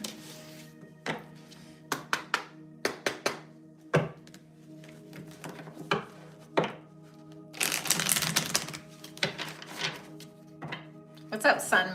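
A tarot deck is shuffled by hand in quick bursts of riffling and tapping, with sharp card slaps at irregular intervals and a longer flurry partway through. A person talks over parts of it.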